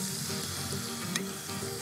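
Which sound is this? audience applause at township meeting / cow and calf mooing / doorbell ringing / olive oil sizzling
olive oil sizzling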